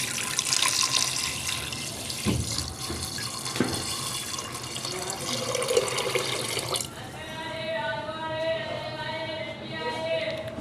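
Water running from a tap into a cooking pot of beef with half an onion, a steady splashing flow that shifts to a fuller filling sound partway through, fairly quiet.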